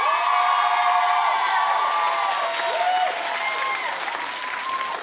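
A talk-show studio audience claps and cheers for a poll choice: sustained dense applause with sliding whoops and shouted cheers over it, staying strong before easing slightly toward the end.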